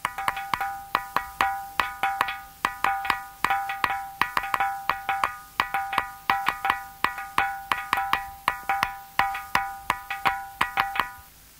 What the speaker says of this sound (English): This is the Tiree ringing rock, played by two people.